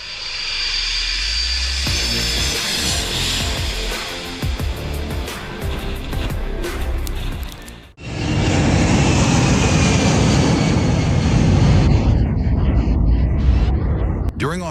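A jet roars low over Maho Beach, loud and close, with a long broadband rumble that swells, cuts briefly and returns as a second heavy blast, while voices talk underneath.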